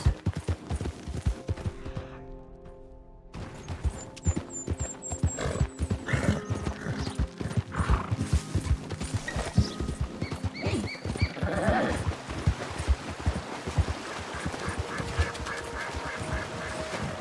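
Horse hooves clip-clopping steadily with whinnies and neighs in the video game Red Dead Redemption 2, mixed with ambient outdoor game sounds including quacking ducks, moderately loud throughout.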